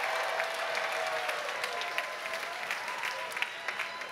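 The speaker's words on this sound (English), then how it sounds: "Let's give her a round of applause." An audience at a 2024 convocation claps for a graduate in a steady, moderately distant wash of applause that holds without a break and is punctuated by a few sharper claps.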